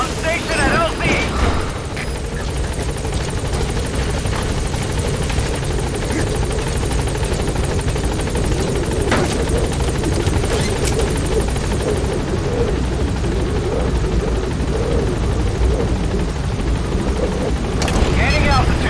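Helicopter arriving at a landing zone in the video game Metal Gear Solid V: a continuous loud rotor and engine drone, with game voices talking over it throughout.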